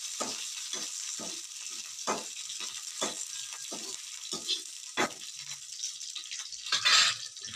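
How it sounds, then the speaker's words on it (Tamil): Red chillies and curry leaves roasting in a pan, a faint hiss broken by a regular series of sharp stirring scrapes and taps, close and quiet, no voices. "வரமிளகாவையும் கருவேப்பிலையும் வறுத்துட்டு பிளேட்டில்"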